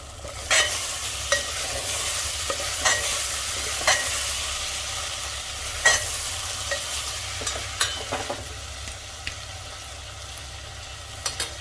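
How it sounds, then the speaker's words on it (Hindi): Spices and chopped tomato for Sindhi-style mutton fried on a high flame, a continuous close sizzle broken by repeated sharp scrapes and knocks of a spoon stirring the pan. "ये मैं लगातार हाई फ्लेम पर भून रही हूँ।"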